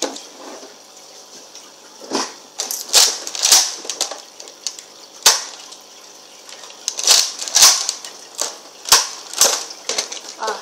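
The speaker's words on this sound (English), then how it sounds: "I'm going to test out for shooting." A Nerf Retaliator blaster is fired several times, each dart shot a sharp, near, snappy click-and-whoosh with a short mechanical clack, spaced irregularly over a quiet background.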